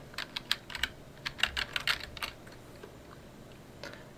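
Someone types on a computer keyboard in quick, uneven bursts of soft clicks, with a pause before a final couple of keystrokes, heard up close and fairly quiet.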